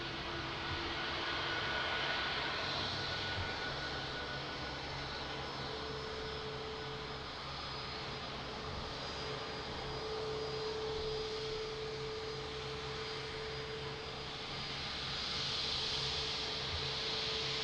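Aircraft engines at Lisbon Airport, a steady distant broadband roar with a sustained whine, holding level for the whole stretch with slight swells, no voices.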